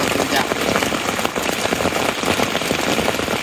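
Heavy rain falls steadily on a mountain camp on Mount Ciremai, a dense, constant patter close by and filling the whole stretch with no break.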